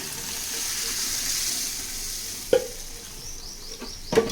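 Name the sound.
onions frying and being stirred for dal tempering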